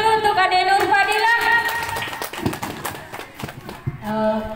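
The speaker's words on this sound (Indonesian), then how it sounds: "tepuk tangan dulu untuk Ade Nur Fadila." A participant is given a short round of hand clapping by an indoor audience, the claps ragged and close, with voices heard before and after the applause.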